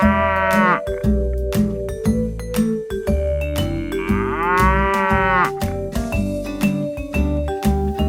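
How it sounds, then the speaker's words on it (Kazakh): A cow mooing in long, loud, drawn-out calls, several in sequence with a rising tonal bellow in the middle, close and clear over a background of layered tones. "Сиыр мөңірейді."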